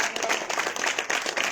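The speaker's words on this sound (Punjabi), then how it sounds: "ਜ਼ੋਰਦਾਰ ਤਾੜੀਆਂ ਫਿਰ" A church congregation claps loudly and steadily at a prayer service, a dense burst of applause filling the short moment with a faint voice beneath it.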